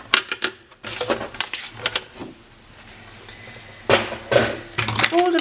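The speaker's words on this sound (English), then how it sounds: "Fold and burnish all of your score lines." Cardstock gift box being folded and its score lines burnished, close crisp creasing and scraping strokes in irregular bursts, with a quieter stretch in the middle.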